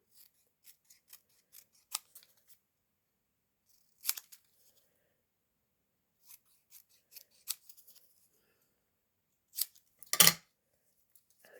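Scissors trimming paper for a tall pocket craft project, a quiet series of small crisp snips scattered across the moment, with a louder cluster of cuts near the end.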